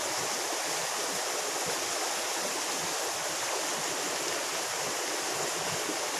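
A stream flowing steadily, a constant broadband rush of water close by with no breaks and no speech.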